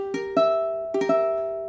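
Two sustained diminished chords on a keyboard for an ear training quiz, each built from quick successive note onsets, ringing clearly and decaying with no voice.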